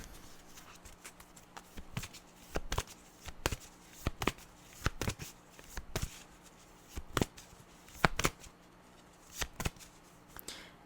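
Tarot cards are shuffled in repeated short riffling bursts, quiet and close, with brief pauses between each shuffle.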